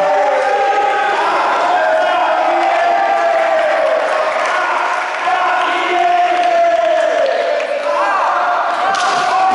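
A packed arena crowd roars and chants continuously at a Brazilian fight event, loud and close, with overlapping shouting voices rising and falling throughout.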